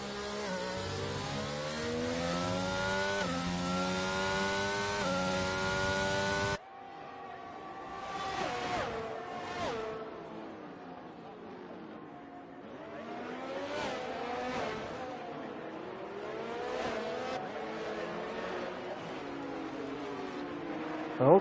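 F1 race car engines in the F1 22 game at the Mexican Grand Prix, high-pitched screaming revs rising and falling as cars pass and shift gears, with several engines overlapping.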